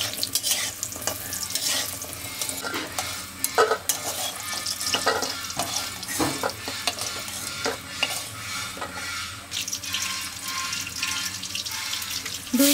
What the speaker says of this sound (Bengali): বড়িগুলোকে আস্তে আস্তে করে সুন্দর করে ভেজে নিতে হয়